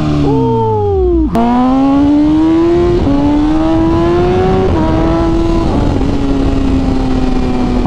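BMW M1000RR sport motorcycle at a bike night accelerating hard with wheelie control, rising through several gears with loud engine revs and quick shift dips, close and dominant with no talk.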